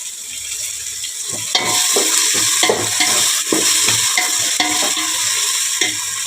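Onions and tomatoes sizzle and fry in a pan while being stirred, a steady hiss throughout with repeated scraping strokes of a spoon, close and fairly loud, no talking.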